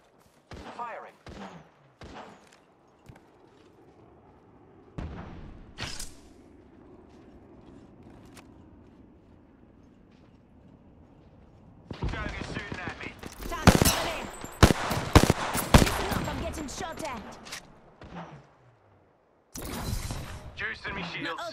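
Gunfire in the Apex Legends video game, dense rapid automatic bursts in the second half after sparse single shots, loud and close, with a voice speaking over parts of it.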